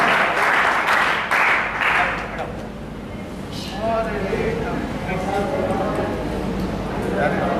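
Audience applause welcoming children at a National Sports Day event, a loud, dense wash of clapping near the start that eases into softer crowd noise, with people talking over it.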